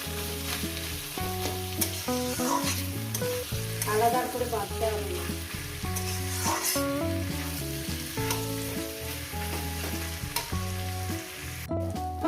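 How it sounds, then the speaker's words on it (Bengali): Chicken frying in a pan while being stirred, a steady sizzle running throughout under music, with scraping stir sounds and no speech. "ভেজে নিচ্ছি চিকেনটাকে"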